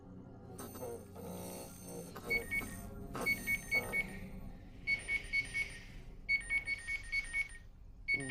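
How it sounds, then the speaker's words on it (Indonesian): An alarm clock goes off at night in a film, repeated rapid electronic beeping bursts in a steady pulsing rhythm, loud and close after soft background music, with no talk. "tiba-tiba harus dikejutkan dengan bunyi alarm"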